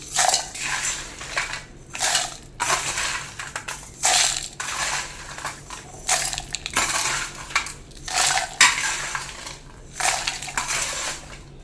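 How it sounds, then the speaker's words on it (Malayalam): A mixer grinder jar grinding sambar powder spices in repeated loud bursts, each a few seconds of harsh whirring and rattling, separated by short pauses. "ഇനി നമുക്ക് കുറേശ്ശെ എടുത്ത് നല്ലപോലെ മിക്സിയുടെ ജാറിലിട്ടൊന്ന് പൊടിച്ചെടുക്കാം."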